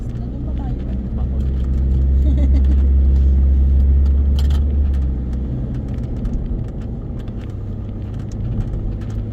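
Car engine revving as the driver presses the gas, a deep low rumble that swells loud for a few seconds then settles back to a steady idle, with faint voices nearby.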